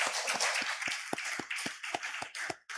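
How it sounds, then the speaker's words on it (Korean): Congregation applause during a Korean church worship service, a brief burst of clapping with sharp individual claps standing out close by, fairly quiet overall. "하나님께 영광의 박수를 드리겠습니다."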